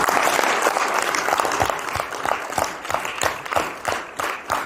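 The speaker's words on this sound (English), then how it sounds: "Round of applause for our Gopakumar." A crowd applauds warmly after a speech at an international speech contest, dense clapping at first that thins into scattered individual claps toward the end.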